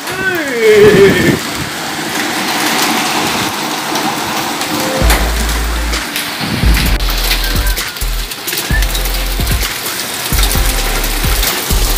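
Heavy rain pours steadily during a storm in Saudi Arabia, hammering a roof as floodwater gathers, with deep low rumbles surging repeatedly beneath the dense hiss throughout.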